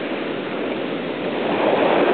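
Sea waves slap and wash against a tour boat on a September sea excursion along the Crimean coast between Sudak and Yalta, a steady broadband rush that swells slightly louder toward the end, with no voices.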